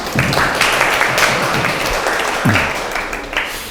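A lecture-hall audience at a Korean public science talk claps to welcome the professor, a steady moderately loud patter of hands lasting nearly four seconds with faint low voices and shuffling underneath.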